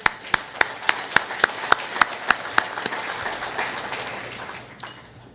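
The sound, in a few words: audience applause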